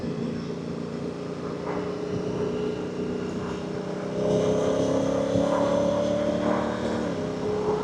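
A Honda Africa Twin CRF1000 with DCT gearbox drones steadily, then its engine note swells and climbs as it revs a little higher, moderately loud, with no voices.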